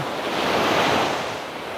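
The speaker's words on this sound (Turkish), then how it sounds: "Şu dalgaları seyretmek. Baya yükseldi deniz arkadaşlar." Sea waves breaking and surging on Davutlar beach on the Aegean coast, a continuous broad rushing roar that swells and eases, with some wind buffeting the microphone.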